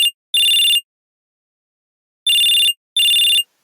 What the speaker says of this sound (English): his large phone starts to ring